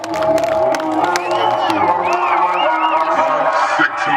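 At a healthy-lifestyle festival performance, a crowd cheers and whoops with scattered clapping, loud and lively, while voices shout and talk over the din.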